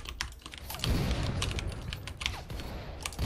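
Rapid computer keyboard key presses, with repeated Q and E taps, during a Steam Battle Carnival closed beta shooter match: close, busy clicking and clattering that runs continuously through the stretch over low game rumble, with no talking.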